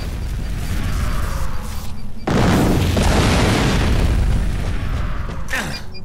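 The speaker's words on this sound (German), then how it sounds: "Werfen Sie eine Granate in das Fenster da oben." A grenade explodes in the Fracture shooter game, a loud broadband boom erupting after a rumbling mechanical background and sustaining a dense roar for several seconds before a brief sharp crack near the end.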